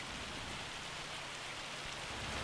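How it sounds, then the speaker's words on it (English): Hail pelting down in Farming Simulator 25, a dense, steady hiss of countless tiny impacts at even loudness, alone with no voices. "It's getting bombarded by hail, but we will do it anyway."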